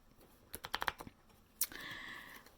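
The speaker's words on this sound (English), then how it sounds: "So I'm going to shuffle the cards." A few quick papery clicks and flutters of tarot cards being shuffled, close and fairly quiet, with a brief riffle near the end.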